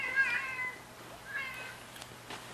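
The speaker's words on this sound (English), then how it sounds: "I hear a cat." Indoors, a cat gives a few soft, drawn-out meows spread across a couple of seconds, faint and alone with no talk.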